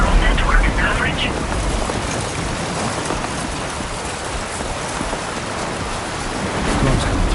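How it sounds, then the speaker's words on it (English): Steady rain hiss from a thunderstorm in the video game Death Stranding 2, with low rumbling underneath that swells near the end; a voice speaks over it. "Storm's coming through."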